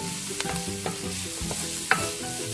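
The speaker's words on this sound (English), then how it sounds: "That culinary symphony, sizzling food in the hot saute pan." Marinara sauce ingredients sizzle and crackle in a hot sauté pan while utensils clink and scrape as they are stirred, close by.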